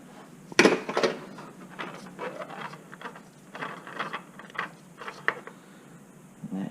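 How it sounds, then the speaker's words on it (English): A wrench loosening the oil filter on a Subaru Legacy during an oil change, heard as close clanks and metallic scraping, one sharp knock followed by a run of irregular ratcheting taps and clicks. "we'll use a little bit of a wrench to loosen that up"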